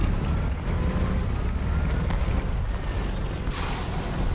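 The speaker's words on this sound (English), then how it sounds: "I've got a feeling I'm being watched because I hear an engine" A tank engine in the War Thunder video game drones as a loud, steady low rumble with a brief high whine near the end and no talk.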